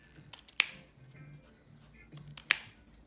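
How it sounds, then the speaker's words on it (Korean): Scissors snip the ends of a ribbon in two crisp, separate cuts about two seconds apart, close and fairly quiet, with soft handling rustle between them. "가위를 빼서 끝부분을 잘라볼게요."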